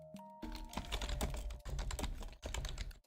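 Fast typing on a computer keyboard, a dense run of close, crisp key clicks with a couple of brief pauses, and no talking.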